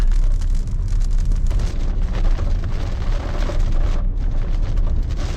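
Dense, roaring downpour drums continuously on a moving car on the Jiagedaqi–Mohe highway, wipers at top speed, with a low rumbling undertone, loud and unbroken throughout.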